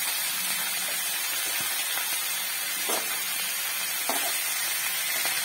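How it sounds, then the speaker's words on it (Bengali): Mustard seeds temper in hot oil in a wok, giving a continuous close sizzle and hiss with a few faint pops and scrapes. "তেলের মধ্যে একটু সরষের ফোড়ন দিয়ে দেবো অল্প করে।"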